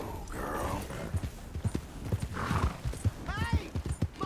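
Horse hooves clip-clopping in Red Dead Redemption 2, a steady run of hoof beats close by with a whinny, while a voice talks over them.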